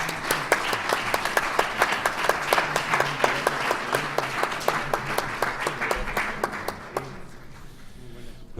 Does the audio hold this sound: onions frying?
no